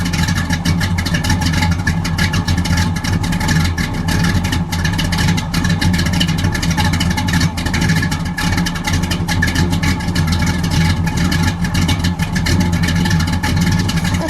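A 1969 Pontiac GTO Judge Ram Air III V8 engine runs loud and deep for a long stretch, a throaty, rough rumble that barely changes in level.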